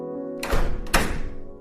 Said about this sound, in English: As the door closed behind him